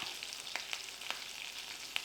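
Garlic, two or three dried red chillies and asafoetida fry in hot oil as a tempering, making a steady close sizzle with scattered sharp crackles and pops.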